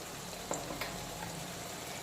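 Soft, even sizzling of spice paste frying in oil over low to medium heat, quiet and steady, with a couple of faint utensil taps.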